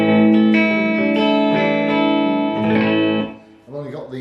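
Electric guitar played through a Blackstar HT Club 40 valve amp with reverb, ringing sustained notes and chords with a soft tail, followed by a brief fading pluck at the end.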